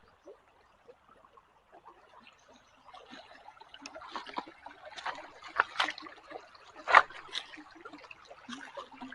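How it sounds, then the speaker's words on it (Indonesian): Calm, shallow river water flowing through rice fields, a soft, uneven trickle and gurgle that starts very faint and grows into a closer, livelier splashing with occasional louder bubbling spots. "Aliran airnya tenang ya, nggak deras."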